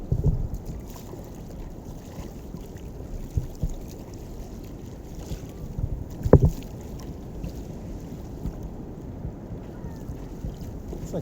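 Steady wind roars across open water under fog while paddleboard surfing, a loud continuous rumble of microphone buffeting with water sloshing and a brief knock midway, no talking.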